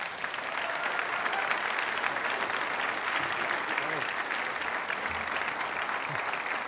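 An audience claps steadily for the entire stretch to welcome the speaker Vijay Prashad at a 2019 evening talk, a dense, even wash of applause from a sizable crowd.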